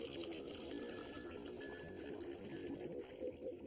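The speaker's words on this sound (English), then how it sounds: "Take the water. Put it back in the hole we had earlier." Continuous splashing and gushing as water is poured back into a hole, a steady liquid pour with faint bubbling texture throughout.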